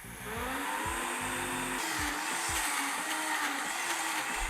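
A blender grinding lightly toasted, cooled sesame seeds into tahini runs loudly and steadily throughout, its motor pitch wavering as the paste churns, with no talk.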